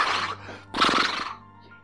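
A person imitates a horse during a game of Simon Says, making two vocal whinny-like bursts with a short pause between them. The sounds are close and fairly loud.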